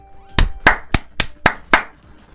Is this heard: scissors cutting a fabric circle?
no